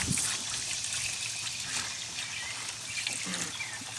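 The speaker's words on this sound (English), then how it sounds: "So we're going to put some water in our bowl." Water trickles and splashes steadily into a bowl during turtle cleaning, a close, continuous pouring sound with no talk.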